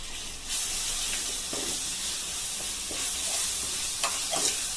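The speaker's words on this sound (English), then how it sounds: "I am mixing it nicely" Spices and cumin seed powder stirred in a hot pan for chicken vindaloo, giving a continuous bright sizzle and hiss with a few scraping strokes of the spoon, close and steady, with no talking.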